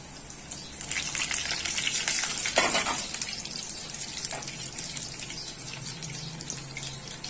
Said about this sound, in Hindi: फ्राई करना है जैसे आप पकौड़ों को फ्राई करते हैं। दोनों साइड से उसको फ्राई कर लें।